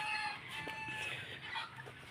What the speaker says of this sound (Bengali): মুরগিকে খাবার দিব তো তার জন্য